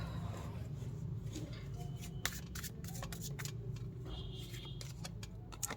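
Tarot cards being shuffled by hand, a soft continuous riffling and flicking with scattered sharper snaps, quiet and close, alone without speech.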